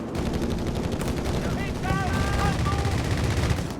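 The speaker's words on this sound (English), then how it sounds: "we got another strafing run here" Sustained rattling machine-gun fire from an aircraft strafing run in Company of Heroes 3, a dense continuous roar of rapid shots with whistling, pitch-sliding tones layered in the middle, loud and unbroken throughout.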